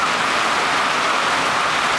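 Cold rain falling outdoors during a hike: a steady, dense hiss of rainfall, fairly loud and even throughout, with no talking.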